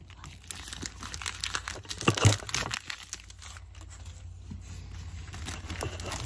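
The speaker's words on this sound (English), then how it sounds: "now I'm going to move all these cards so we have more room" Japanese trading cards shuffled and slid across a surface during a booster box opening, a dense papery crinkling that swells to a louder burst of handling partway through, then settles into softer continuous rustling.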